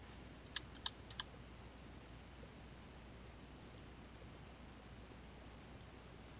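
A computer keyboard gives three quick, faint keystrokes close together at the start, then only a soft steady hiss remains with no talk.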